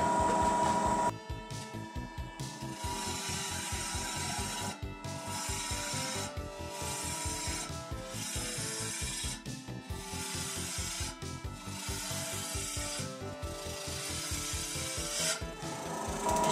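A bowl spins on a wood lathe at 800 RPM while a tool cuts into it, making a continuous rasping, rhythmic scraping that pulses steadily for about fifteen seconds, close and without speech.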